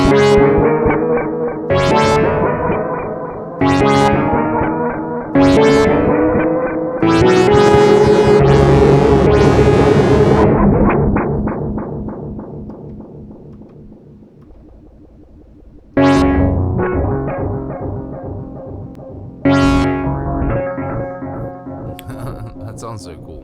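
Heavily processed Moog Matriarch synth notes are struck in bursts, each ringing out with distorted, echoing tails that decay and then repeat, loud and up close.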